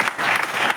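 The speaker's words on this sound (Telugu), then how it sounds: "చప్పట్లు కొడదాం" A church congregation claps together in a short, lively burst of many hands, close and fairly loud.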